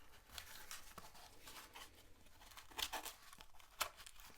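Paper crinkles and rustles as scissors poke a slot through it, with a few sharper tearing pokes standing out near the end, close by and fairly quiet.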